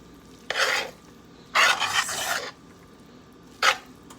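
A spoon stirring seafood rice with shrimp and conch in a pot, three separate scraping, rasping bursts close by, the middle one longest, with quiet pauses between and no talking.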